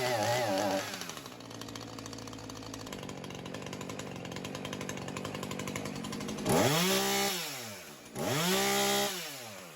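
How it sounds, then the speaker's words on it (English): A chainsaw runs steadily at high speed, then is revved hard twice near the end, each burst climbing sharply in pitch before dropping back. "The saw should quickly raise in RPMs when given full throttle."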